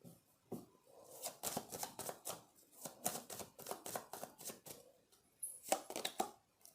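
Tarot cards are shuffled in a rapid series of crisp riffling flutters and slaps, close and fairly quiet, in repeated bursts with no talking.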